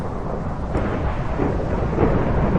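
Heavy thunderstorm in Minecraft, a continuous rumbling roar of thunder and rain that swells slightly toward the end, loud and steady with no talk.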